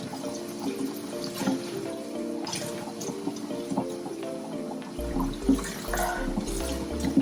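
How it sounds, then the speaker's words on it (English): Water splashes and runs steadily as a turtle tank filter for a peninsula cooter is rinsed out, with trickling and dripping throughout and a louder gush toward the end. "I'm just gonna rinse everything out."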